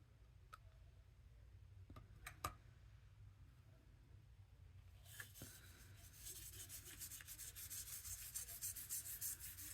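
Gilding flakes being rubbed by hand onto glued paper in a mixed media piece, a faint, close, continuous scratchy rubbing that starts quietly and grows busier and denser in the second half, with a few soft ticks and no talk.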